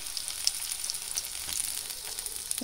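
Paneer tikka sizzling on a tawa over a low flame, a soft, continuous crackle of frying with scattered pops, steady and fairly quiet throughout.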